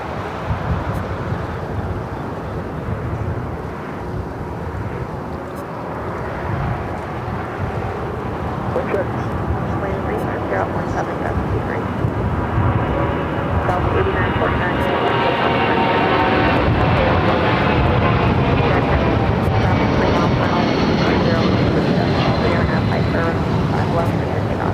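A Delta Boeing 757-200 sports charter jet rolls for takeoff on runway 25 left at LAX, with a broad roaring engine wash that builds steadily and stays loud and distant under wind noise while someone talks over it.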